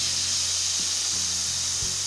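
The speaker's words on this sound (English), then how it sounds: "So we're going to do something called fast venting so that I can move this along." An Instant Pot pressure cooker fast-vents steam while making vegetable broth with carrots, giving a loud, continuous hiss that stays steady for the whole two seconds.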